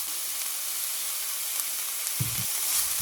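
Sliced onion and green chillies frying in hot oil, a constant fine hiss of sizzling close up, with a brief low scrape of stirring near the end and no voices.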